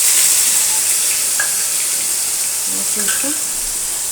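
Cumin seeds and ground masala sizzle in hot oil in a pan for a prawn curry, a steady loud hiss with faint crackles while a voice speaks briefly over it.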